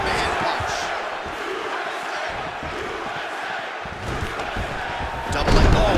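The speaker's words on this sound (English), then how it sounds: "nice pop there from the crowd as he finally gets the takedown" An arena crowd at a UFC fight roars steadily after a takedown, a broad, loud wash of cheering with a swell near the end.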